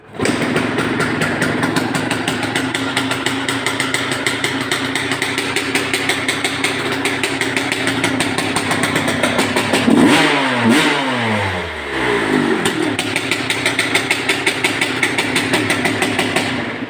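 A motorcycle engine with a PVL digital electronic ignition runs close and loud in a fast, steady idle pulse, then revs once with a sweeping rise and fall before settling back to idle.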